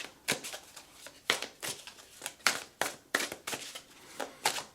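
Golden Art Nouveau tarot cards shuffled by hand in a series of crisp, rapid riffling bursts, about a dozen short rustles at an irregular rhythm, close and fairly quiet with no talking.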